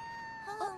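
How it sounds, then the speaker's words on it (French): A single short cartoon cat meow from a cat stuck in a tree rises faintly over a steady background tone, brief and somewhat distant. "Oh, Doug, c'est mon chat Coco, il est coincé dans cet arbre et il ne peut pas redescendre."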